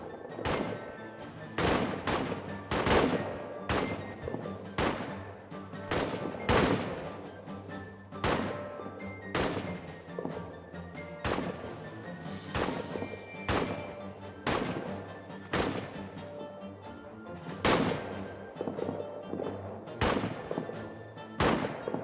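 Repeated gunfire in the WWI trench warfare game All Quiet in the Trenches, with loud, dense bursts of rifle and machine-gun shots cracking steadily over a rumbling battle background throughout, with no talking.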